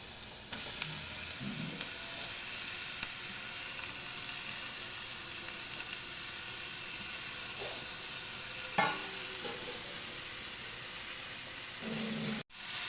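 Beetroot being stir-fried with softened onions in a pan gives a constant bright sizzle and hiss, with a few soft scraping stirs and small clinks. It continues evenly until a brief dip near the end.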